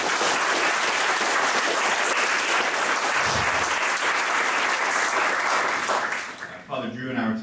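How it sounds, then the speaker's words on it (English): An audience applauds the two debaters at a Catholic versus Protestant papacy debate, with sustained close clapping filling most of the stretch before it thins out and a voice begins speaking at the end. "how about a round of applause for this group?"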